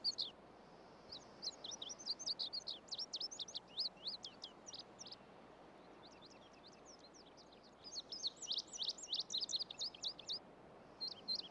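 Birds sing in quick, high chirping bursts, pausing midway before resuming, fairly faint against a quiet outdoor background.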